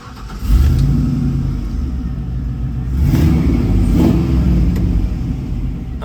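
A 1968 Chevrolet C10 restomod with an LS engine cranks and fires, then settles into a loud, close, steady idle, swelling twice with brief revs before easing back.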